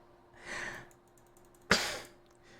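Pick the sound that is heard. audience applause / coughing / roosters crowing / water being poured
coughing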